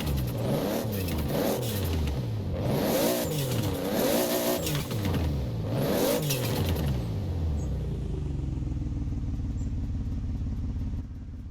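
Toyota Supra with a 2JZ engine and race cams in Forza Horizon 4: repeated rising and falling revs in a steady rhythm, then settling into a smooth, rumbling idle, loud and continuous with no voices.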